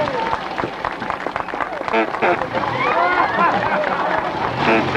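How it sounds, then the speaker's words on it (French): An outdoor crowd at a Peugeot club gathering applauds amid babble and voices, the clapping mixed with chatter and nearby speech for several seconds. "On peut quand même les applaudir"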